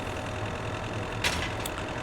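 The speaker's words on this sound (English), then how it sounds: "It seems like the truck's really loud." A truck engine in the video game Foxhole idles steadily with a low, constant rumble, fairly loud and close, with a brief hiss partway through.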